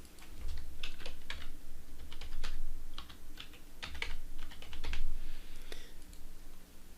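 A password is typed on a computer keyboard as scattered bursts of close, crisp key clicks with short pauses between them, with no talking.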